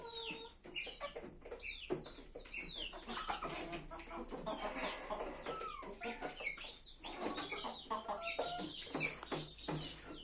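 Egg-laying chickens clucking busily as they crowd into their coop, with overlapping calls and short squawks, close and lively with no talk.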